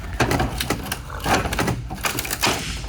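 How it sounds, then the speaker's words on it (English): Loud crackling and snapping of carbon fiber on a flooded McLaren P1 giving way, a dense run of cracks and splintering pops up close. "That's the sound of carbon breaking."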